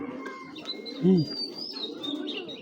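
Young pigeons kept for sale give a soft, close coo in the middle, among light chirps and other faint bird sounds.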